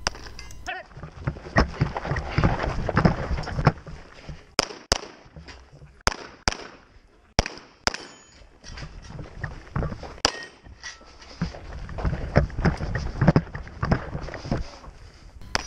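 Pistol shots at a practical shooting match ring out against steel popper targets as a series of sharp, loud cracks and metallic clangs. The shots come in irregular bursts over a background of outdoor noise.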